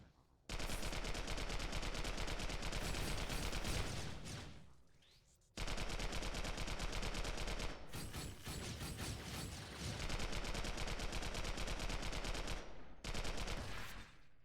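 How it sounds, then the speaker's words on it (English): Rapid automatic gunfire in the shooter video game Global Agenda, loud dense bursts lasting several seconds each with brief gaps between them, no talking. "lackluster shooting."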